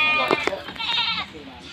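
Goats at a farm where a new buck has arrived bleat in a few wavering, nasal calls close to the microphone, with people talking over and between them.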